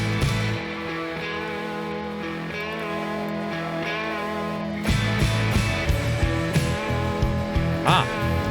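Electric guitars play in a song, with a raw live feel, sustained chords alone at first, then fuller strummed playing joins with drums midway.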